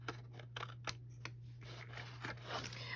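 Scissors snipping off a tab while building a box and drawer, a run of quick, close, crisp cuts with short pauses between them over a steady low hum.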